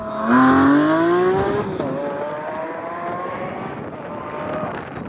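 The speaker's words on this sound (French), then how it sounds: "le moteur il gueule tellement" A Ferrari 488 Pista supercar engine roars loudly and close, its pitch climbing sharply through a hard rev before easing into a lower, sustained drone that fades slightly.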